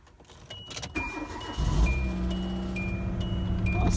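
An old high-mileage car is started: rattling and clicks of keys come first, then the cranking engine catches and settles into a loud, rough, steady running rumble close by.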